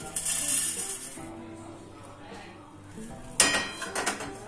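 A metal kadai pan set back down on a kitchen stove, a faint scrape early on, then a clear metallic clunk and a few lighter clinks of metal, with a voice speaking quietly in the kitchen.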